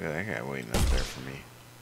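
Gunfire in an Unreal Engine video game: a single loud, booming shot bursts out right after a short stretch of speech, then its tail fades quickly while talking resumes faintly.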